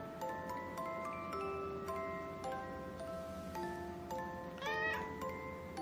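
A cat meows back in reply during a conversation, a rising wavering call near the end standing out over a steady bed of sustained tonal hum and faint ticking, close and moderately loud.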